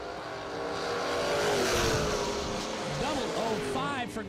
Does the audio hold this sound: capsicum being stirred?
no